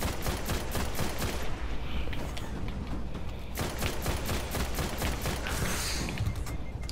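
Rapid bursts of automatic gunfire in the shooter game Destiny, dense repeated cracks firing almost continuously and loud up close for several seconds.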